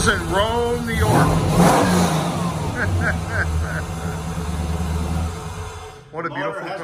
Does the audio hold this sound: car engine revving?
yes